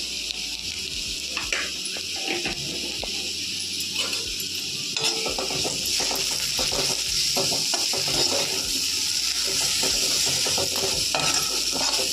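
Potato fry sizzles in a pan with coriander powder and masala while a spatula stirs and scrapes repeatedly, a steady close hiss punctuated by clattering strokes against the pan, no voices.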